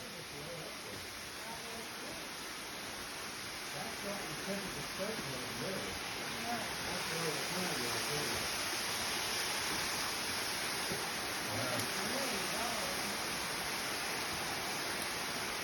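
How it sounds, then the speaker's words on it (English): A waterfall spilling into a sinkhole at a Florida state park, heard as a steady broadband rush of falling water that swells a little louder midway, with faint voices underneath. "And there you see the waterfall here."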